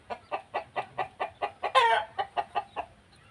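A chicken in the Thai countryside gives a rhythmic run of about a dozen evenly spaced clucks, close and clear, with one louder, harsher squawk in the middle.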